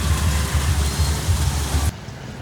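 Steady rain hisses evenly with a low rumbling hum beneath, then cuts off abruptly near the end.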